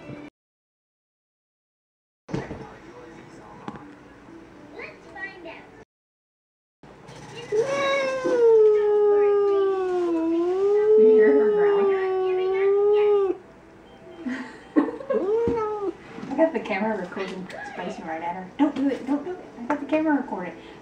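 A cat outside yowls through a window in a long, wavering, drawn-out caterwaul, rising and falling in pitch, with shorter cries and scuffling around it and a person speaking nearby.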